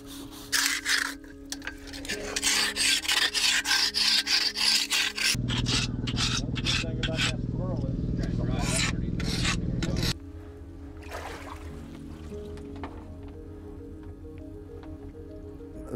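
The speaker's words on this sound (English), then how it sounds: "We're going to clean the pipe with wire brushes and scrapers" Harsh rhythmic scraping and rasping strokes of wire brushes against an oxidized metal pipe, loud and close, continuing for several seconds with changing intensity.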